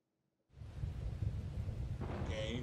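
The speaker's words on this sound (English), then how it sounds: "Okay, thunder, lightning, rain." After a moment of near silence, a deep rolling rumble of thunder swells in with steady rain hiss, continuing loudly to the end, from a video game trailer.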